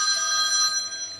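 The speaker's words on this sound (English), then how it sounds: "My phone." A mobile phone rings with a steady, bright electronic tone, moderately loud and close, with no voices over it, during a session of restringing a guitar.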